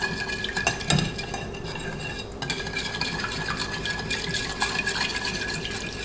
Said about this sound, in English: just whisk everything together